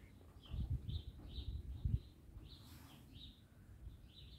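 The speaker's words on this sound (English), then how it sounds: "Bird again, is it?" A bird on the roof of an abandoned farm building in Kent gives faint, repeated high chirps at a steady pace, set over low rumbling and shuffling noise nearby.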